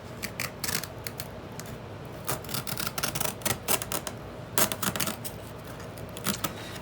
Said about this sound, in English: So I'm just gonna go ahead and cut through